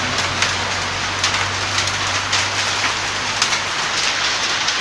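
Steady rain hisses evenly, with scattered louder drops pattering on a nearby surface and a low hum underneath.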